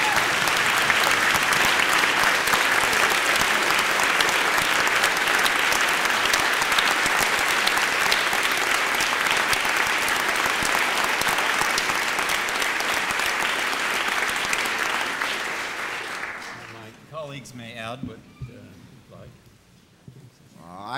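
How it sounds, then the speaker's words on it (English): A moot court competition audience gives a long standing ovation for the contestants, with loud, dense clapping that holds steady for about fifteen seconds before thinning out to scattered claps and quiet room noise. "I think we should stand up and applaud all four of these contestants and their supporters."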